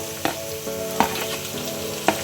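Two green chilies frying in hot oil for a tomato and capsicum masala curry, a close steady sizzle broken by three sharp utensil clinks against the pan.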